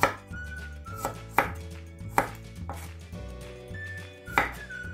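A knife chops garlic into large pieces on a cutting board in several sharp, irregular strikes, close and distinct, with no talking.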